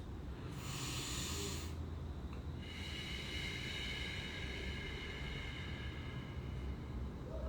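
Slow, deep breaths during a guided breathing exercise, a long airy inhale and exhale hissing faintly over a low background hum, quiet and unhurried.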